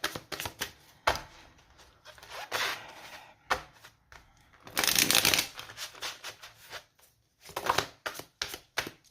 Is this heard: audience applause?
no